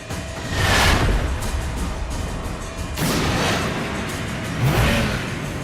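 A cartoon robot changes into a car as its engine revs in loud, sustained surges, with two or three swelling bursts of roaring noise and no talking.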